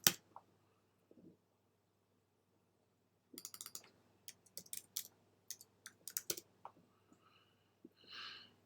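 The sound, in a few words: typing a password on a computer keyboard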